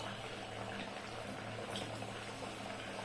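Sweet khaja dough frying in hot oil over a low gas flame gives a soft, steady bubbling sizzle that stays even throughout, faint and without speech.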